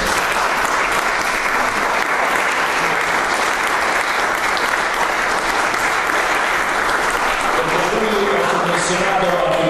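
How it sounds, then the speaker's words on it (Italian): Sustained applause from an audience at a municipal event in Castellammare di Stabia, honoring an art master; dense, steady clapping fills the room for the whole stretch, with a voice faintly audible near the end. "chiedo di farti un applauso"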